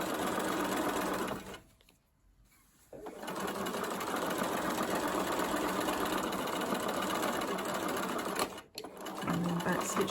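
A sewing machine stitches a skirt seam with a steady, fast mechanical whir. The stitching stops for about a second early on, resumes, and breaks off briefly again near the end.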